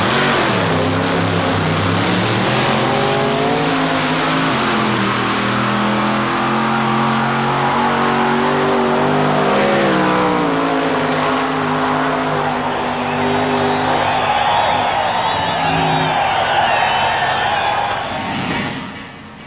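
Wheelstander drag car engine revving hard and accelerating, a loud continuous roar with rising pitch that gradually fades off as the car pulls away.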